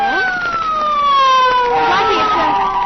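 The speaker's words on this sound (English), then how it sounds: "Blackie, it's Faraday in that police car." A police car siren wails nearby in an old radio drama, its pitch sliding down then starting to rise again, loud and continuous.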